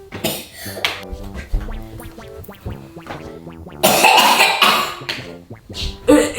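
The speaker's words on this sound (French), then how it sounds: "il a toussé" Coughing from a person, a few sharp bursts among clattering household noises and movement, mid-distance, with faint voices in the background.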